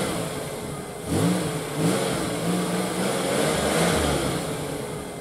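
Full-size RC car under throttle control, its engine revving up in a few rising surges over a steady running drone, fairly close and loud, with no talking.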